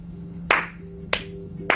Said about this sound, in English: you kind of hear that. Three or four people's hands clapping.